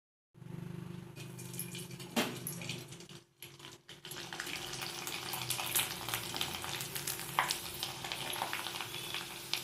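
Sun-dried rice flour kurdaya frying in hot oil, a steady close crackling sizzle throughout with a brief dip partway, and no talking.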